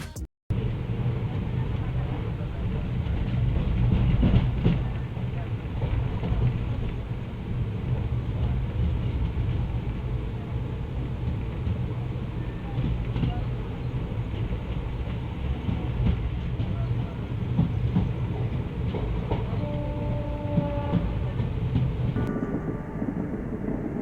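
Itwari to Rewa Express of Indian Railways rolling along, heard from on board as a steady, loud rumble with rattling carriage noise that continues throughout, with a few faint tones rising near the end.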